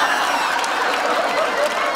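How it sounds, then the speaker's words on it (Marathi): An audience at a Marathi comedy show claps in steady, dense applause that carries loudly from start to finish without pause. "एकदा जोरदार टाळ्या अरे मारा."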